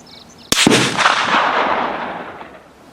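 A single close rifle shot from a Lencac SC 1903A4 with a Huber trigger on a shooting range, a sharp loud crack followed by a long rolling echo that slowly fades.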